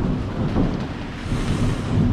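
Heavy downpour pours down in Thailand at night, a dense, unbroken roar of rain with low rumbling wash, loud and close throughout.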